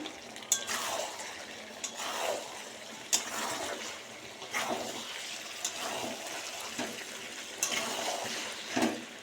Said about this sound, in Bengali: এবার আমি আলু দিয়ে দিলাম দিয়ে আর জল দিয়ে দেবো